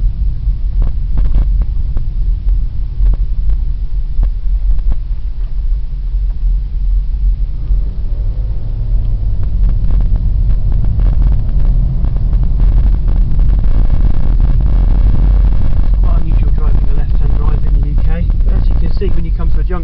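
An Audi A4 V6 TDI, four-wheel drive with an automatic gearbox, drives along the road with a loud, continuous low rumble of engine and road noise and some wind buffeting, rising slightly as it moves.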